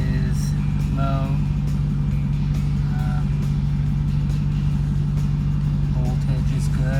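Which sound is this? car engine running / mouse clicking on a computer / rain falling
car engine running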